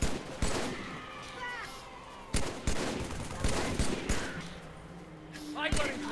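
Rifle fire in Halo 3 on the Ark mission: several separated, loud, sharp shots crack out over a few seconds amid a noisy battle bed with whistling projectile streaks and distant combat effects.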